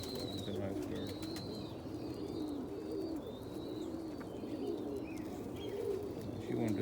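Pigeons coo softly at morning feeding, repeated low rolling calls over a steady background hum, with a few faint higher chirps, no clear talk.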